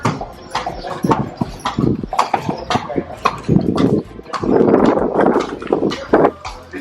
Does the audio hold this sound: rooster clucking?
no